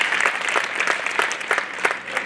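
An audience at a talk by the author of a book on women's lives claps continuously, a dense, even patter of many hands that stays steady for the whole stretch, with no speech over it.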